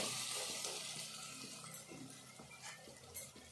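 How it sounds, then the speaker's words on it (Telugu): Potato pieces fry in a pan for a potato curry, giving a soft, continuous sizzle broken by the clink and scrape of stirring. "ఇవి కొద్దిసేపు వేగాలి ఇట్లా కొద్దిసేపు ఇట్లా వేగితే సరిపోతాయి ఈ ముక్కలు"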